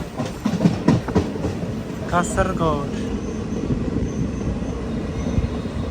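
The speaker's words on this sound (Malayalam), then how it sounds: "കാസർഗോഡ് റെയിൽവേ സ്റ്റേഷനിലേക്ക് നമ്മുടെ ട്രെയിൻ എത്തിക്കൊണ്ടിരിക്കുകയാണ്" An express train rolls into Kasaragod railway station, with a rumbling wheel clatter and brief squeals heard from on board, and a voice speaking over it at the start.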